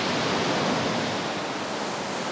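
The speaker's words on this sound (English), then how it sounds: "This is called Dettifoss, Europe's most powerful waterfall." Dettifoss in Iceland, Europe's most powerful waterfall, roars as a dense, steady, broadband rush of falling water heard close up, with no voices over it.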